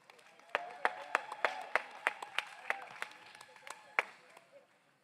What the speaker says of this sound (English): Can we please have a round of applause for Mr. Frank Swift?